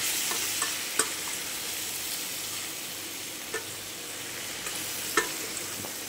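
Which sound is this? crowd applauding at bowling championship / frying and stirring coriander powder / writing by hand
frying and stirring coriander powder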